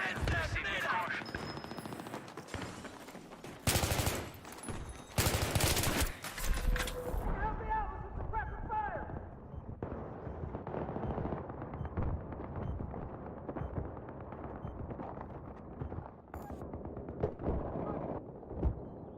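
Machine gun fire and battle noise in the Xbox 360 shooter Battlefield 3, loud bursts of automatic gunfire early on giving way to quieter, more distant firing and rumble, with a voice speaking throughout.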